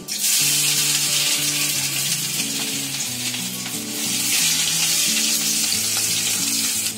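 Chopped ginger and garlic fry in hot oil for a chili chicken gravy, giving a loud, steady, close sizzle that runs without a break under the stirring. No one speaks.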